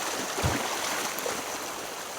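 Stream water flowing in the Kolli Hills, a steady broadband rush close by with no voices and one brief low thump near the start.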